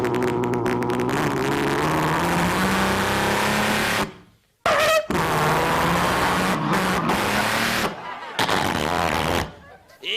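Vocal imitation of a truck engine revving, loud buzzy engine drones broken by sharp popping bursts and brief silences, like backfires, performed by one voice over about ten seconds.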